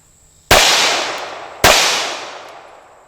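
Two sharp, loud shots from a Glock 21 Gen 4 .45 ACP pistol about a second apart, each with a long echoing decay outdoors.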